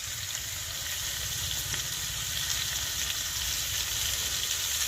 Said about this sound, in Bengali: আলু আর কুমড়োটা ভালো করে ভেজে নিয়েছি।